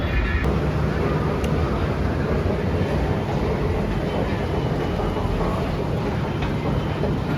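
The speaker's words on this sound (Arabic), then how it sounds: "هنا كنت وصلت المترو" Metro train running with a loud, steady rumbling roar heard from close by, continuous throughout without pauses.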